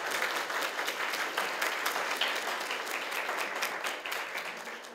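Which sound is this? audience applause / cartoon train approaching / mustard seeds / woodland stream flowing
audience applause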